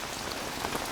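Rain drums on surfaces in a dense, even hiss of drops, steady and close throughout with no voices.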